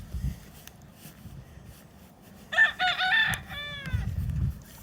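Outdoors on a planted patch of rye and alfalfa, a rooster crows loudly at mid-distance in a drawn-out call, followed by a few short clucks, with quiet rustling background before and after.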